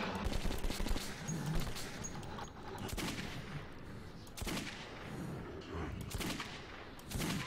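Sustained gunfire from the video game Metro 2033, with bursts of shots and heavy impacts rolling on without a break across the whole stretch, loud and dense, with no talking over it.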